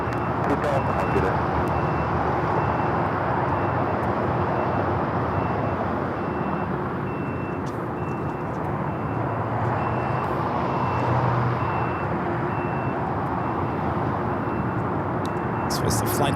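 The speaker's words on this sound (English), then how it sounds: "This is United Airlines Flight 2000 taking off to Denver on the A321neo" A United Airlines Airbus A321neo taking off at LAX, a sustained, even engine roar rumbling throughout at a distance, with voices faintly present over it.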